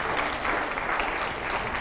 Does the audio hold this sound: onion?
no